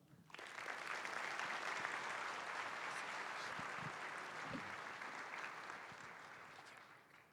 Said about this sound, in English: Another big round of applause for Miss Sally Myers